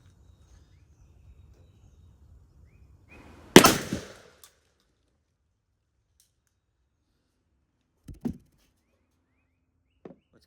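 A Mossberg 935 12-gauge shotgun fires a single sharp, loud report of Federal Premium TSS 3-inch shells on an outdoor range, followed by faint knocks and clicks.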